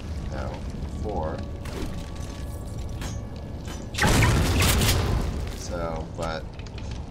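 A grenade explodes in the video game Duke Nukem Forever, a loud booming burst with rumbling debris that rolls on for about a second, heard amid a player's casual talk and game sounds.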